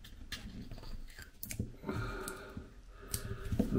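A sticker is scraped off a variable RF attenuator, giving close, scratchy clicking and rasping sounds in uneven bursts over a low background rumble.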